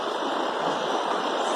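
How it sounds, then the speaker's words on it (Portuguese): Steady rushing water runs continuously at a rural countryside property, a loud, even broadband roar with no pauses or breaks, heard alone without voices. "por conta do barulho da água"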